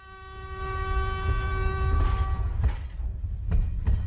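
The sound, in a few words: train approaching on railway tracks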